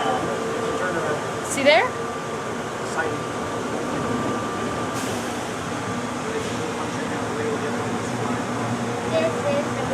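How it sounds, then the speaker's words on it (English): Atlanta airport Plane Train automated people mover braking to a stop, a constant mechanical hum with a steady whine and a short squeal early on, while a voice speaks briefly over it. "Please hold on. This train is stopping."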